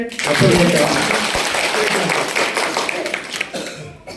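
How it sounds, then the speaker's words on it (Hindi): A church congregation claps loudly during a service. The dense, continuous clapping fills the room from the start and carries on with voices beneath it. "ये बिटिया को ताली बजाना जोर से"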